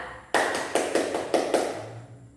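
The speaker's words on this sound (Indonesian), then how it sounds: "Mari kita semua beri aplaus untuk kelompok 2." A classroom group claps together after a presentation, a short burst of applause with a few rhythmic beats that quickly fades.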